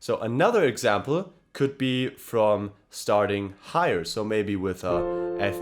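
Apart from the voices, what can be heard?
No distinct noise like a dog, phone or traffic.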